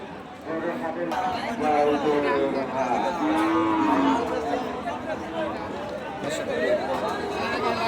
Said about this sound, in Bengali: এই সুন্দর সুন্দর গরুগুলি আপনারা নিতে পারবেন